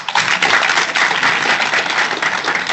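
An audience at a nursing and midwifery research forum claps together in a brief, dense burst of applause, loud and even from start to finish with no voices over it.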